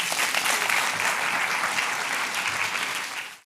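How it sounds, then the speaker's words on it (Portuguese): An audience at a Portuguese technology talk applauds the event organizers, a dense, steady round of clapping that holds at full strength before fading out at the end. "celebrar o que está a acontecer aqui hoje com uma salva de palmas para a organização"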